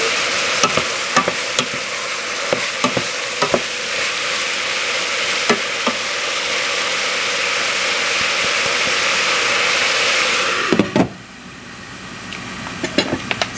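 Onion and garlic sizzle steadily in a hot pan for vegan molokhia while a utensil scrapes and taps against the pan in irregular strokes; near the end the frying drops quieter and a few final clinks follow.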